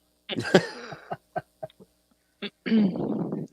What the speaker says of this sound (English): you're still coughing from the fumes